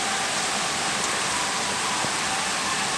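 Steady rain pours down in a dense, even hiss with no breaks, close and fairly loud, with no voices present.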